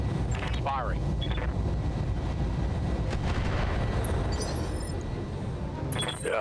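Mech weapons fire in the BattleTech RogueTech game, a dense continuous barrage of booms and crackling blasts that stays loud for the whole stretch, with a voice talking over part of it.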